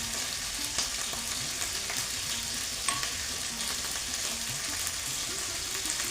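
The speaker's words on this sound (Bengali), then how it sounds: "চিকেনটা ভাজা হচ্ছে" Unmarinated chicken pieces sizzle in a pan with whole spices, a steady, close frying hiss broken by small pops and light stirring taps, with no speech.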